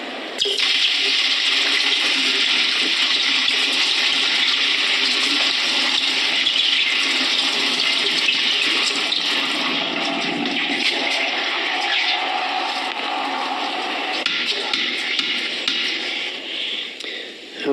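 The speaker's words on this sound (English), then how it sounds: "I'm going to be pouring it into this bucket of cold water." Molten silver and gold alloy poured into a bucket of cold water gives a long, continuous rushing hiss and bubbling that holds steady for many seconds, then thins and turns more sputtering near the end.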